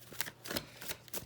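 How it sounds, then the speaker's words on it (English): Oracle cards shuffled close at hand, soft riffling swishes arriving in several quick bursts, quiet and intimate with no voice over them. "Let's get an oracle for y'all. I usually pull it, but for some reason I want to shuffle for y'all."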